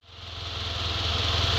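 A Toyota 2E engine, being repaired for heavy smoke and oil consumption, starts and settles into a steady close-up idle that builds quickly in loudness and holds an even hum.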